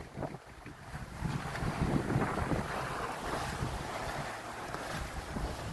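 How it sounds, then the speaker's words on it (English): A sailboat under way on the South Pacific Ocean en route to Fiji, with steady wind buffeting the microphone and continuous rushing water and wave wash along the hull, loud and unbroken throughout. "Sailing to Fiji in the South Pacific Ocean."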